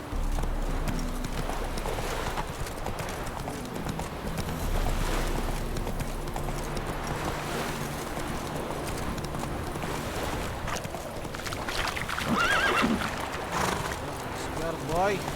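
Roach the horse gallops with rapid rhythmic hoofbeats in The Witcher 3, with occasional neighs, while a person talks over the game sounds.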